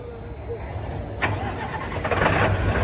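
A diesel truck with a faulty fuel filter is being started: a broadband engine roar surges in after about a second and settles into a rough running rumble, with people talking nearby.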